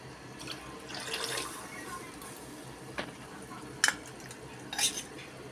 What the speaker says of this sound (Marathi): आता आपण ह्याच्यातच 1 वाटी पाणी टाकतोय।